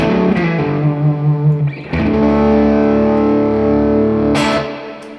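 A distorted electric guitar plays a lick slowly with effects. Sustained, bending notes give way to a longer held chord-like tone, which cuts off near the end with a bright pick scrape.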